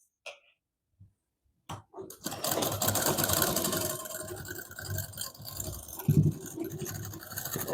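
A sewing machine runs along the edge of a double katori blouse, starting after a few sharp taps and then whirring continuously and fairly close, with some uneven surges in its rhythm.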